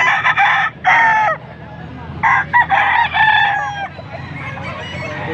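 Stag gamecock roosters crow in repeated loud bursts nearby, several overlapping calls with brief gaps, over a steady background murmur.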